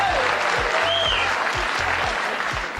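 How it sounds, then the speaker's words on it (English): A studio audience at a late-night talk show bursts into loud, sustained applause after a roast joke, a dense steady roar of clapping with some cheering that holds for the whole stretch. "The crowd goes wild"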